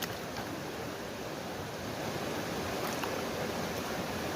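Water sloshing and swirling in a gold pan as gravel is rinsed, a steady close wash of splashing with no pauses and no voices.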